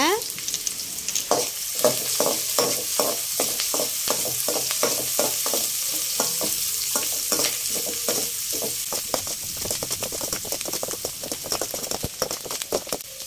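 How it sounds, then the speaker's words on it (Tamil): Onions sautéing in a pan for egg rice, a steady loud sizzle with frequent rhythmic scrapes and clicks of a spatula stirring throughout, close up and with no voices. "தேவையான அளவு வெங்காயம் சேர்த்ததுக்கு அப்புறமா நல்லா பொன்னிறமாக வதக்கி எடுத்துக்கோங்க."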